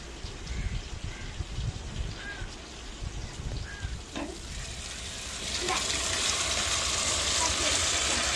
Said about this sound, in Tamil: நம்ம ரெடி பண்ணி வச்சிருக்க சாம்பாரை தாளிச்சதோட சேர்த்துக்கிறோங்க